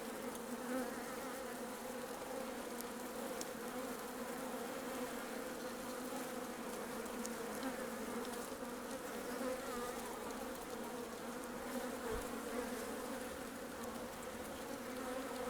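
Honeybees hum steadily inside a populous hive, a dense, continuous buzz heard close and unbroken with no voices over it.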